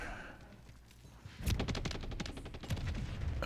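Video game gunfire in a first-person shooter, a rapid run of close, evenly spaced shots that starts abruptly after a quiet stretch and keeps going to the end, scoring a double kill.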